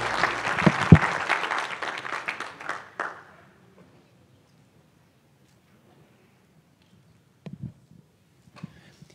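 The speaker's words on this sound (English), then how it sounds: "Give the Lord a hand clap of praise" A church congregation claps in praise during a Sunday service, a loud burst of many hands that fades out after about three seconds, leaving near silence with a few faint rustles and knocks.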